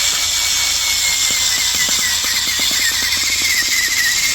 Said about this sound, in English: I think it's a little hard on your little drill